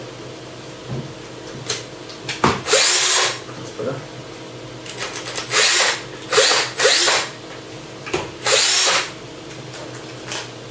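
A power drill whirs in several short, loud bursts with pauses between, close by, and someone speaks briefly in between.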